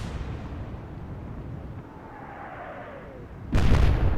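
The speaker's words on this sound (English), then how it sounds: "Open fire." Naval guns open fire in the Atlantic Fleet game during a UK campaign engagement at Norfolk, one loud booming blast arriving near the end after a low rumbling sea ambience, no voices.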